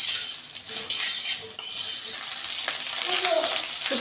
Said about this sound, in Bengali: এইভাবে আরও কিছুক্ষণ নাড়াচাড়া করে সম্পূর্ণ হয়ে যাবে।